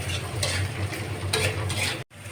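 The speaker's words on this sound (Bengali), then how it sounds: "কাঁঠালের বীজ দিয়ে একটু নাড়াচাড়া করে নিয়েছি" Jackfruit seeds being stirred in a pan with onions give a soft, steady sizzle and scraping, close and moderately quiet, with a brief dropout near the end.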